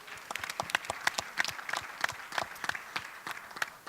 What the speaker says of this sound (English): Let's take an applause to this.